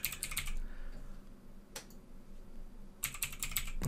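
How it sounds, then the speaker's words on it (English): Password entry on a computer keyboard: quick clusters of close, crisp key clicks at the start and end, separated by a quiet pause with a single stray tap. "And of course you can put your password in here. So we're going to put a password in."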